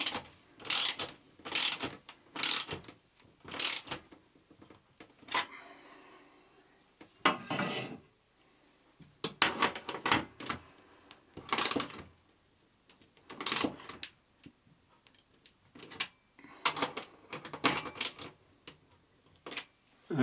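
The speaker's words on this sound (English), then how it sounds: "we can now tighten up all of the fixings, ensuring that these 2 are very tight, because they're the 2 that are going into the studs." A tool tightens wall fixings while a TV is mounted to a hollow wall, with the key screws going into studs. It makes repeated close ratcheting, clicking bursts in an uneven rhythm, separated by short pauses.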